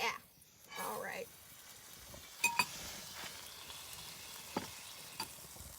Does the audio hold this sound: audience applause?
no